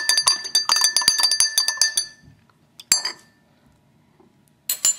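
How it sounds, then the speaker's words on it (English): Glass rings and clinks from a spoon stirring oil and water inside a drinking glass, a rapid run of close, bright taps for two seconds, then a lone clink and a final short burst after a quiet pause. "Here we're going to stir it a little bit more."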